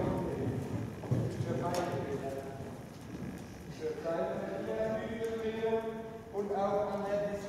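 Horse hooves clip-clopping during riding, steady rhythmic footfalls under a voice speaking throughout.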